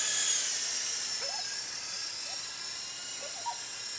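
A small coaxial RC helicopter carrying orange weights hovers with a steady, high-pitched electric whine and buzz, close and continuous, with a faint voice in the background.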